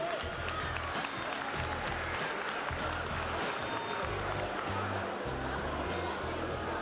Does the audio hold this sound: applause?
yes